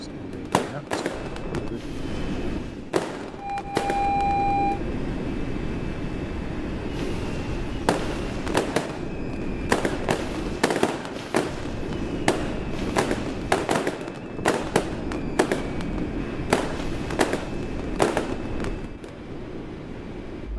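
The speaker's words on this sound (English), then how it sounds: "Get the impression we'll probably see a few more fireworks on the road." Fireworks bursting in the Train Sim World game on a Glasgow route, a string of sharp cracks and thumps scattered irregularly over a steady rumbling background, some close and loud, others fainter.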